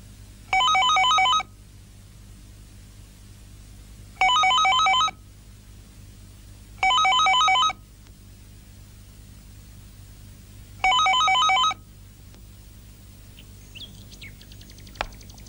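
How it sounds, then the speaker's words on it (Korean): An electronic telephone ring repeats in four bursts a few seconds apart, with no one answering and a low steady hum in the quiet between rings. "사모님, 전화를 안 받아요."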